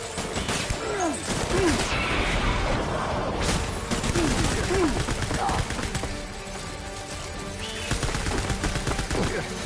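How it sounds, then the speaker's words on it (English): Rapid gunfire in the video game Death Stranding, a loud, continuous rattle of shots with crashing impacts, with a player talking over the top. "this guy was shooting at me"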